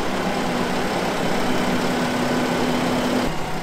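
A Fendt 516 tractor engine idling on a farm, a steady close hum with a constant tone that holds for a few seconds before cutting off near the end.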